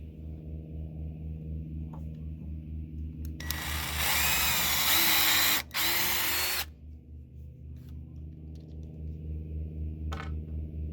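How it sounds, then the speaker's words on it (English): A power drill pre-drilling and driving screws into wood whines loudly for about three seconds, briefly cuts out, then finishes a screw over a steady background hum. "I'm going to go ahead and pre-drill and screw this in"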